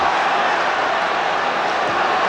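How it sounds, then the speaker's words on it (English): A football stadium crowd lets out a loud, sustained collective roar of anticipation, a broad wash of voices holding steady for a couple of seconds. "Great ooh from the crowd."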